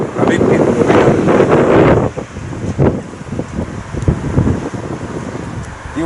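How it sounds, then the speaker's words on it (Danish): Wind blowing hard at a historic self-yawing windmill in Skjern, loud buffeting gusts on the microphone, easing then returning, with a voice talking in between. "vi har vinden den her vej nu"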